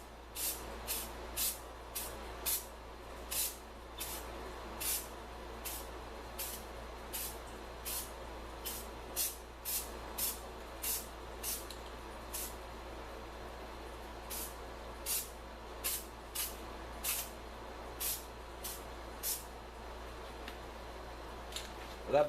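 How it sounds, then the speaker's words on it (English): Bed liner spray paint hisses from an aerosol can in short, regular bursts, roughly one per second, over a quiet background with a low steady hum. "And I bought some of this bed liner spray paint."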